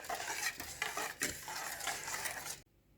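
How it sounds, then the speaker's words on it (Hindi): A spoon scrapes and clinks quickly against a bowl as red chilli powder and salt are stirred into a masala. The rapid stirring continues steadily, then stops abruptly, leaving near silence at the end. "और अब इस सबको मैं अच्छे से मिक्स करूंगी।"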